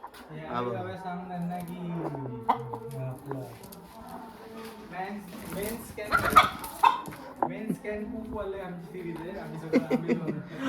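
A rooster crows and clucks nearby amid people talking and laughing, with intermittent bursts of activity.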